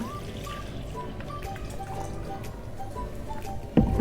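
Milk pours over Oreo biscuits in a kitchen for a shake, a soft continuous trickle with faint dripping, ending in a brief louder splash or clatter near the end.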